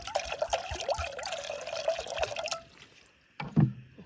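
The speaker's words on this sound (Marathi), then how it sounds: "अंडी आणि बटाटा इकडे बॉईल करायला आपण पाणी ठेवू" Water pours steadily into a pot at a night campsite for boiling eggs and potatoes, for a couple of seconds, the pitch rising as it fills, then stops; a short clunk follows.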